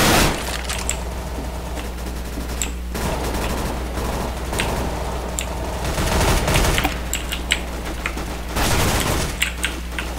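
MAC-10 submachine gun fire in CS:GO, dense rapid automatic bursts sustained nearly throughout with a few short gaps, loud and close with a steady low hum underneath.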